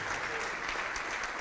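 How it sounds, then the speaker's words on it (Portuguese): A church congregation applauding during a sermon, a soft, steady patter of many hands clapping at a distance. "Vamos aplaudir mais, igreja."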